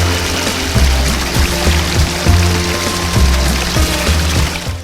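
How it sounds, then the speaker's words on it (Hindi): Water flowing out from between rocks at the Gaumukh waterfall in Songadh during monsoon, a loud, steady rushing and gurgling stream close by with intermittent low splashes and thumps, no voices. "ये पानी पत्थरों के बीच में से निकलता है।"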